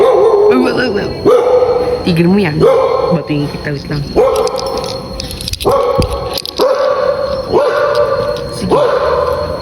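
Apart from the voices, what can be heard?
dog barking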